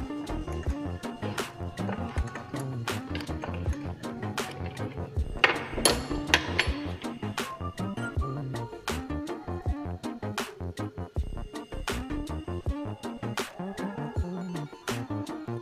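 Steady metallic clicking, tapping and clinking of tools comes from work on a car's brake master cylinder as its mounting nuts are loosened and removed. The sounds are close and continuous, with no talk.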